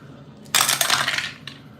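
Dice rattling and tumbling for a Strat-O-Matic tabletop baseball game, a single bright clattering roll lasting under a second, close and fairly loud, with a small follow-up click as they settle.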